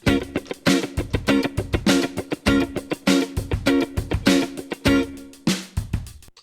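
Funk guitar plays tight 16th-note ghost-note strumming over a drum track, with choppy muted scratches between accented chord stabs in a steady driving groove, close and fairly loud, no voice.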